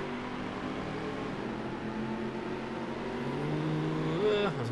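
A race car engine drones steadily in the NASCAR Dirt to Daytona video game, a continuous buzzing hum that rises in pitch near the end as the car accelerates, with faint background noise and no clear talk.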